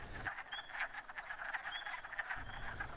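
Male wood frogs call at a vernal pool, a steady chorus of short, duck-like clucking croaks repeating close by, with a few brief higher chirps mixed in and no voices.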